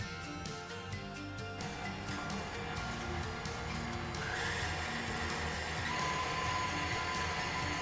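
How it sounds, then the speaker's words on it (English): Electric mixer whisking six eggs with a cup of light brown sugar in a home kitchen, a continuous steady whir close by with faint clinks and no talk. "We're going to whisk the 6 eggs with the 1 cup of light brown sugar until it's light and fluffy."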